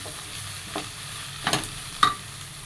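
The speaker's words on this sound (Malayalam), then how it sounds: "ഇഞ്ചിയും വെളുത്തുള്ളി ചതച്ച് വെച്ചിരിക്കുന്നത് ചേർത്ത് കൊടുക്കാം. നന്നായിട്ട് മിക്സ് ചെയ്ത് ഇതിൻ്റെ എല്ലാം പച്ചമണം മാറുന്നിടം വരെ വഴറ്റിയെടുക്കാം." Crushed ginger and garlic sautéing for a coconut milk chicken curry, a soft steady sizzle with a few louder stirring scrapes near the middle and end.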